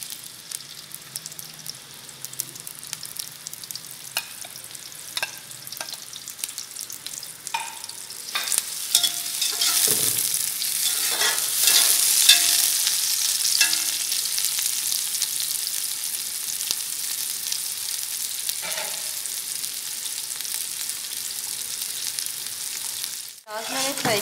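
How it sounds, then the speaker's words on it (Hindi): Two large chopped onions fry in oil for Afghani pulao, a close, steady sizzle that swells louder midway, with scattered spoon scrapes and stirring clicks throughout. "अब हम इसे ऑयल में फ्राई करेंगे"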